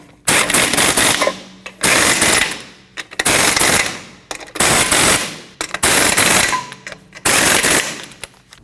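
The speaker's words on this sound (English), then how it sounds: "Now you can tighten down all your lug nuts." A pneumatic impact wrench tightens the lug nuts on a 2012-2021 Nissan NV2500 wheel, firing six loud, close, rattling bursts of about a second each, separated by short pauses.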